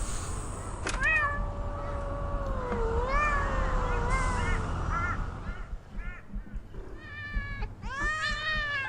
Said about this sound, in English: There's cats.